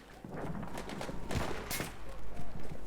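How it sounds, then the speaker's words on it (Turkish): Rapid bursts of Battlefield 1 gunfire crackle close by, with a few heavier thumping shots near the end, under a busy game soundtrack. "Biri bana sıkıyor."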